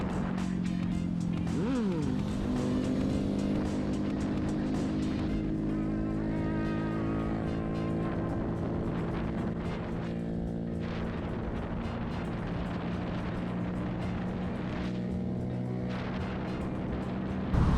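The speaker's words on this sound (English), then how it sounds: "Did you see that guy doing the wheelie?" A Honda Grom motorcycle pulling a wheelie roars past on a road, its loud engine note rising and falling as it accelerates by, over steady nearby engine drone and faint voices.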